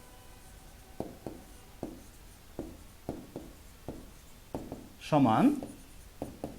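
Pen or chalk writing by hand during a Class 7 math lesson, short scratchy strokes repeating in a steady rhythm, with a brief louder burst partway through and a single spoken word.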